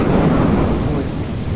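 A thunder crash from a lightning strike in the video game Lethal Company, loud and close, with a heavy rumbling roll and rain noise beneath it, and no voices.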